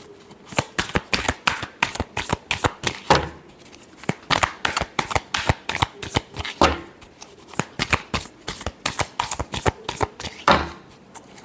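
Tarot cards shuffled by hand in a rapid run of crisp riffling clicks and slaps, close and fairly loud, with brief pauses between bursts and no talk.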